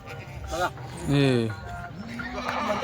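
Kathiawadi goats bleat nearby in a few wavering, nasal calls, one long loud cry in the middle and shorter ones around it, with people talking in the background.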